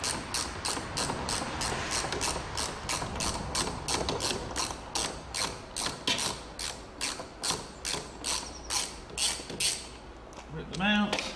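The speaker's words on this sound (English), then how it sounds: "the other 2 I'll have to get with a ratchet. So just a ratchet and extension bar" A ratchet with an extension bar undoing 10mm bolts while removing a car's wiper motor: a fast, even series of close, crisp clicks that runs for several seconds and slows toward the end.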